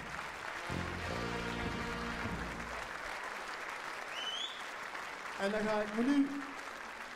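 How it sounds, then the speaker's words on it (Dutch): Steady audience applause at an evening carnival event for the artists, fairly faint, runs under a man's speech. "we gaan even een applaus geven nog voor de artiesten voor deze geweldige avond"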